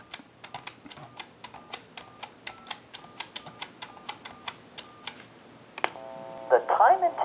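A rapid run of dialing clicks or tones from a Western Electric Princess telephone ticks out evenly, calling a time-and-temperature number, followed by a brief burst of connecting tones at the end.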